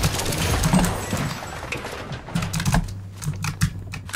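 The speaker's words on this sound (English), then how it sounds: "What are you typing? A novel?" A computer keyboard clatters with quick, uneven bursts of key clicks during a Fortnite session, close and fairly loud, with short pauses between flurries.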